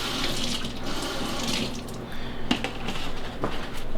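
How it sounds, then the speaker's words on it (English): A farmer's market zucchini is rinsed under a running kitchen tap, a steady close splash of water into a sink with brief shifts as the vegetable moves through the stream, and no talking. "I'm just gonna wash it really quick."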